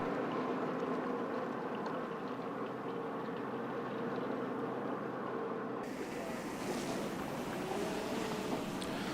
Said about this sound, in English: Sailing gracefully towards Bridge 21 is the MV Torrent, a modern handy-sized bulk carrier